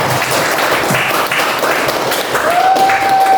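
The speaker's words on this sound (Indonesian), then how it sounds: "Kita tepuk tangan" A room of participants at a 2023 university group presentation session in Yogyakarta claps together in a loud, dense burst, with a steady electronic tone rising in near the end.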